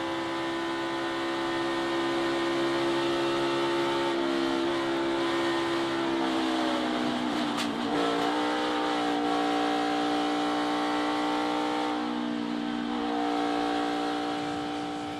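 Onboard a NASCAR stock car at Daytona International Speedway during the 2019 Daytona 500, a loud sustained engine drone with steady harmonics dominates, dipping and recovering midway as track and wind noise roar underneath, close and continuous without talk.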